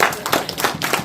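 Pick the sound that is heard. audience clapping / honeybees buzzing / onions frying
audience clapping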